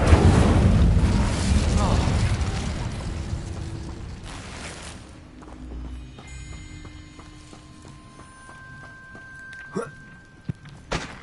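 Incendio fire spell cast in a video game: a loud, dense whooshing blaze up front that dies down, followed by quieter clicks, soft mechanical ticks and a couple of sharp knocks near the end.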